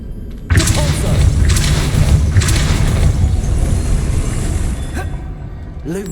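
A spell cast in Hogwarts Legacy lands as a loud thudding boom with a whooshing burst, followed by a sustained rumbling roar and a few softer magical swishes trailing off near the end.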